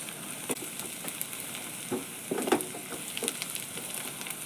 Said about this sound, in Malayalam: നമ്മൾ ഇടയ്ക്കിടയ്ക്ക് ഇളക്കി കൊടുത്തുകൊണ്ടേ ഇരിക്കുക